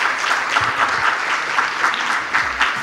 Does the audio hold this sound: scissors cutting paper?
no